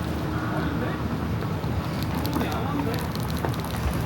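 Strong cold wind blows steadily outdoors in a continuous, fairly loud rush of wind noise buffeting the microphone, with people talking and laughing over it.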